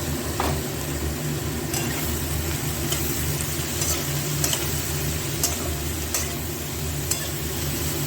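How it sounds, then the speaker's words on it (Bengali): Turmeric and Kashmiri chili are stirred in a frying pan of oil, giving a steady sizzle with soft scraping strokes throughout and a low background hum, with no voices. "দিয়ে দেবো হলুদ, দিয়ে দেবো কাশ্মীরি লঙ্কা, দিয়ে একটু নাড়িয়ে চাড়িয়ে ঢেকে দেবো"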